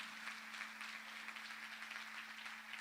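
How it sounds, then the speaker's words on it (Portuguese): Church congregation applauding together in a worship service, a steady wash of many hands clapping at moderate distance with a low sustained hum underneath and no talking. "Vamos aplaudir o Pai, o Filho e o Senhor Espírito Santo."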